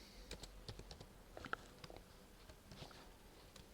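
Keys tapped on a laptop keyboard while Python code is being entered, giving soft, quick, irregular clicks in short bursts that sit close but quiet with no voice.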